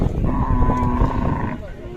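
A Khillar bull at a cattle show in Eksamba, Chikkodi, Belagavi, India, gives a long, deep lowing call close by, over a background of crowd murmur.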